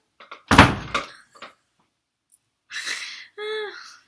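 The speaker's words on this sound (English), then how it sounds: "We'll just take her out and shut my door." A bedroom door is pulled shut with a loud, close thump and rattle, followed by a couple of lighter knocks; a short whimper and a voice-like sound come afterward.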